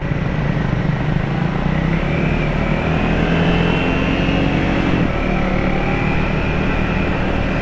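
A Triumph Speed 400 or Scrambler 400 X motorcycle engine pulling hard in first gear, a loud close drone whose pitch climbs steadily as it accelerates, with no talk.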